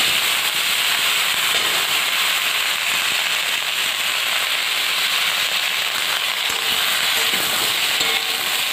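Vegetables going into hot oil tempered with spices and a bay leaf in a kadai, producing a loud, dense, unbroken crackling sizzle up close that never lets up, with no speech.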